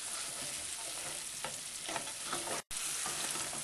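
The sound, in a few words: masala mix frying with onions, garlic and ginger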